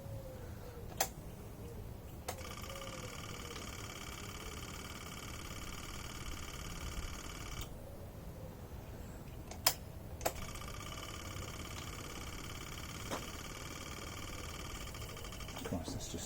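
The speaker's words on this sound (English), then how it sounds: "The fuel pump doing what it should have done." Fuel pump running in a Tango car, a steady faint whine with a repeating high mechanical hum that stops and restarts, accompanied by a few sharp clicks.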